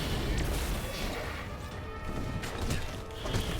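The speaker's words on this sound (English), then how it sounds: "look at these explosions" Explosions in the video game Path of Destinies, a dense run of crashing, booming blasts that fills the whole stretch at steady loudness with no pause.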